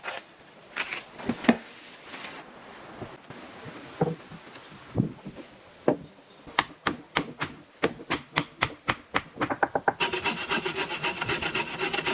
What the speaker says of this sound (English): The protruding ends of the roof logs are being precisely trimmed with a saw